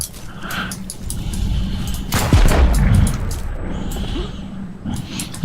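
Gunshots crack during a fight in the video game Active Matter, including a heavy booming blast midway. Lighter shots are scattered before and after it, and someone talks over the gunfire.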